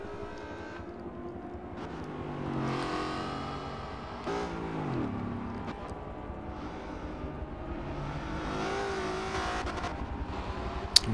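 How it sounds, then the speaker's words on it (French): A 1998 Aston Martin V8 Vantage V600 races at Mount Panorama in Forza Motorsport 7, its engine rising and falling through gear changes with revving swells and a sharp downshift, moderately loud and steady throughout. "C'est impressionnant la puissance de cette voiture."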